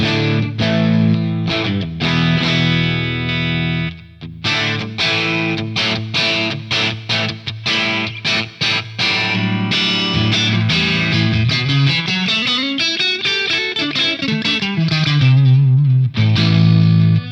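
Electric guitar through a HeadRush amp model with heavy, high-gain distortion, loud and close: chugging chords and choppy rhythmic stabs, then a sustained bending lead line.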